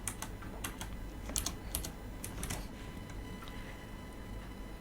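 Typing code on a computer keyboard during a Raspberry Pi programming session, with irregular light key clicks in quick bursts across the first few seconds, then quieter, sparser taps over low background hum.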